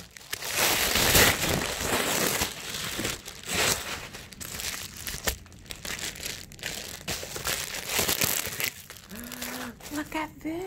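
Crinkly packaging from a mail parcel being torn and opened, a near, continuous rustling and crackling lasting throughout, with a person speaking over it.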